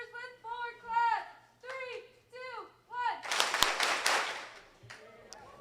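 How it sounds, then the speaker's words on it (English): Audience clapping in unison at a school leadership closing ceremony, a burst of sharp claps after several spoken lines, with a voice talking before and after. "We're going to celebrate our 4th year leaders with 4 claps"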